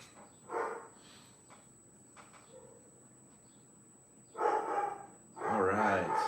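A pet pup barks in a few loud, harmonic bursts, one early and two close together near the end, with quieter room noise in between.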